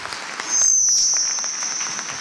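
An audience at a kurultay gathering applauds to welcome a singer from Baku, a steady wash of clapping that rises and holds at moderate loudness, with a high electronic tone running over it.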